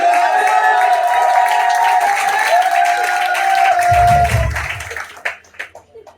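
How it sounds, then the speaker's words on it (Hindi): A crowd at an RCM business meeting in Faridabad applauding and cheering in a large room, a loud steady wash of clapping that fades into scattered claps near the end. "तो मैं आप सबकी जोरदार तालियों के साथ में माइक्रोफोन हैंड ओवर।"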